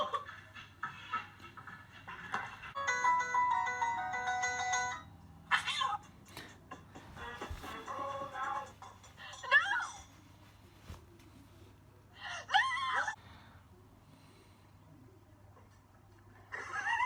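A cat meows and caterwauls in several short, strained cries over a faint steady hum, with brief thuds and other household sounds between the calls.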